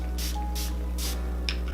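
Three short bursts of face mist sprayed from a pump bottle during a makeup routine, fairly evenly spaced against a steady low background hum, followed by a faint click near the end.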